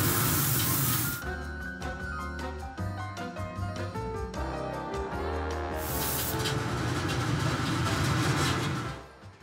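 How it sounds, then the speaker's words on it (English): Lacquer is sprayed over enamel paint on model spoons. Steady hissing spray bursts open and close the stretch, with music playing loudly in between and over them. "Now we're gonna do the lacquer over the enamel"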